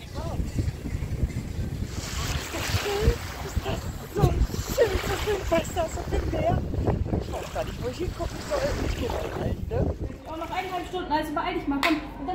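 Sea waves washing onto a beach with strong wind buffeting the microphone, a continuous loud roar and surf wash while people talk over it.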